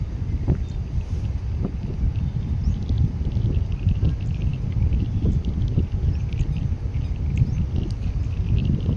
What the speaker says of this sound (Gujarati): પવન છે એટલે મસ્ત લાગે છે વાતાવરણ જોરદાર.